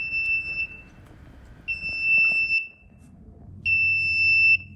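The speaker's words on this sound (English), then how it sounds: "An alarm will also sound, as it will at the end of a normal run" UVC sterilizer machine, the MUV XL, sounding its end-of-run alarm: three loud, piercing electronic beeps, each about a second long, separated by short gaps over a low background hum.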